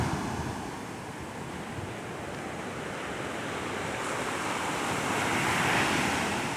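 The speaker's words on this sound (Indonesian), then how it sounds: "Ombak sangat kuat." Strong ocean surf breaking on Banthon Beach in Narathiwat, Thailand, on an early morning, a steady loud roar of waves with wind buffeting the microphone throughout.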